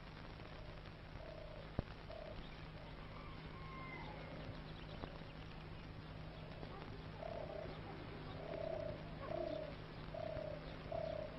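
Birds call in an oasis garden of olive and palm trees, with repeated cooing notes growing more frequent and distinct toward the end over a steady low hum and faint background chirps.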